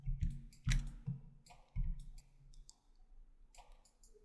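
Several sharp computer mouse clicks, close and fairly quiet, spaced irregularly over a few seconds while editing a faucet fitting model in Cinema 4D, with no talking.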